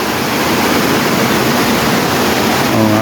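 A clear river rushes beneath a highway bypass bridge, a loud, continuous broadband roar of flowing water close by, with a faint voice surfacing near the end.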